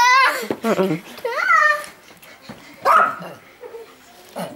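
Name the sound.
dog barking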